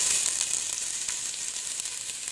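Chopped onion fries in a tablespoon or two of hot olive oil in a pot, a dense, continuous crackling sizzle with faint stirring taps, close and steady with no voices.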